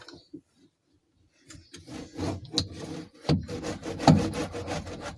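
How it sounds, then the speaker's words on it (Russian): Roller rubbing and pressing sound-deadening mat onto the trunk floor of a VAZ 2115 car: quiet scattered taps at first, then repeated close rasping, scraping strokes with knocks that grow louder. "Вот таким валиком разглаживать."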